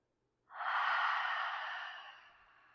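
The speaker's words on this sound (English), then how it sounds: "we're going to take a final inhalation in through our nostrils. And exhale it all out." One long, deep exhalation through the nose during a yoga breathing exercise, a close, breathy rush of air that begins suddenly and slowly fades away over about two seconds.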